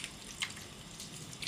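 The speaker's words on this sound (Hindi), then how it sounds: "देखिए कितना सारा पानी जो है निकल रहा है, इस तरह से जो मूली है हमारी पानी से अलग हो चुका है" Liquid squeezed out of salted grated radish trickles and drips into a bowl, a faint and steady wet patter with a few brief louder splashes and no voices.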